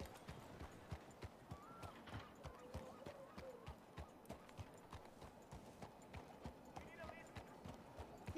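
Horse hooves clip-clopping in a Western roleplay video game, a steady rhythmic trot of clear hoof strikes at an even pace, fairly close, with occasional faint voices underneath.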